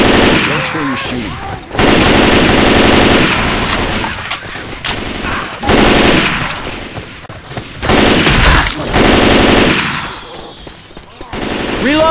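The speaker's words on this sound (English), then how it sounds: "Watch where you're shooting." Loud, close video-game gunfire from Left 4 Dead 2's Dark Carnival barns level, with dense automatic bursts broken by short pauses and heavy impacts across the stretch.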